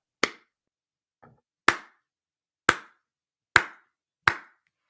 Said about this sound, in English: Or was it the slow Rudy clap?